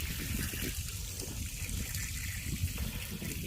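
Water trickles and dribbles steadily out of the drain holes of a Stabicraft aluminium boat left without its bungs, a continuous close, low-level splashing with no talking.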